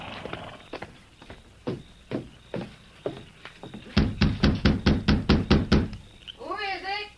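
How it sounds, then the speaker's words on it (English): Knocking on the door of a rundown ranch house in a Western radio drama: a quick run of about nine firm, evenly spaced knocks, close and loud, after softer hoofbeat-like taps, with a voice starting at the end. "dismounted, and knocked on the door"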